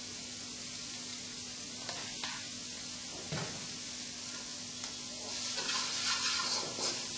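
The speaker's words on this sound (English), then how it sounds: "Sauté till the onion turns transparent." Onions and curry leaves sautéing in a pan for an egg and peas stew, a steady soft sizzle with occasional stirring scrapes, growing slightly louder toward the end, no talking.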